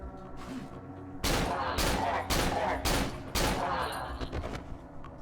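Five heavy gunshots boom in quick succession inside the horror video game Cry of Fear, each a loud broadband blast with a ringing tail, fired over a dark droning ambience.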